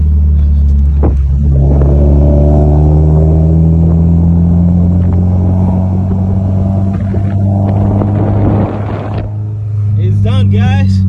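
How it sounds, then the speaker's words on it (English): A car engine hums loud and low inside the cabin after the motor has blown, a steady droning rumble with shifting tones, while a person talks over it. "I blew the motor."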